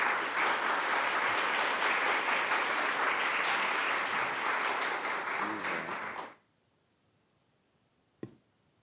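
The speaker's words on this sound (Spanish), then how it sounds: "Recibamos con un fuerte aplauso a doña Gloria Bonder" Loud, steady applause from a conference audience fills the hall for several seconds, then stops abruptly, leaving silence broken by one brief knock.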